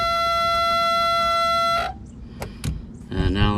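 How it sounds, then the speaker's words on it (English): A steady electronic glow plug timer buzzer drones for nearly two seconds in a 1986 turbo diesel Suzuki Samurai, then cuts off, followed by a couple of clicks and the start of a low rumble. "hit the glow plugs till the buzzer shuts off."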